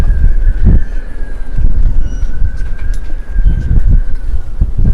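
Steady wind rumble buffets the microphone aboard a sailboat, with gusty low-frequency bursts over a constant roar and a faint distant hum throughout.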